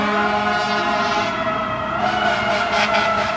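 A New York City fire truck siren wails loudly and continuously, its tone wavering, with engine rumble beneath it.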